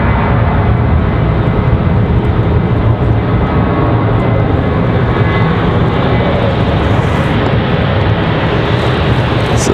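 Southwest jet airliner departing Raleigh-Durham International for West Palm Beach, a loud, continuous engine roar with gusty, rumbling low end, sustained near and steady throughout without any talk.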